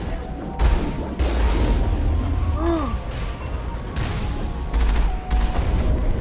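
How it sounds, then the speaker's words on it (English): Bursts of gunfire and explosions from the video game Mass Effect during combat, loud repeated shots and booms in quick clusters, with a player's voice talking over the action. "these shots are just narrowly missing me"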